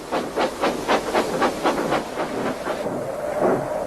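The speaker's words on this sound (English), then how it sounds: "Gordon hissed as he ran backwards to the turntable." A steam engine hisses in rhythmic bursts, loud and close, about eight chuffing pulses that fade into a softer steady hiss near the end.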